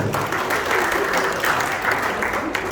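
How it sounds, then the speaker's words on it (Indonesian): A church congregation at a Sunday sermon claps together in a steady, even burst of applause, moderately loud and filling the room without a break. "Tepuk tangan."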